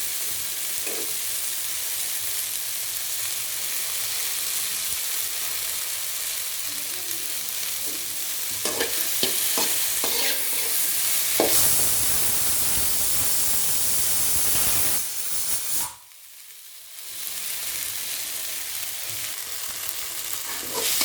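Vegetables sauté in a pan for radish sambar, a steady broad sizzle with intermittent stirring scrapes, close and loud, dropping briefly near the end before the frying hiss resumes.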